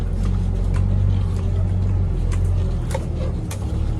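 A car engine revs steadily with a strong low rumble, while a power steering pump gives off a faint whine above it. The sound runs continuous and close, with no talk.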